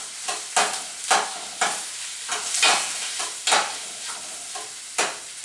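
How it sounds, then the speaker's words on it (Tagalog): Garlic sautéing in a pan over a small flame, gentle sizzling broken by regular spatula stirs that swell and fade about every half second, close and without speech. "I will try to saute the garlic till it will become golden brown."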